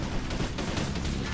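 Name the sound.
vehicle explosion in a Halo video game match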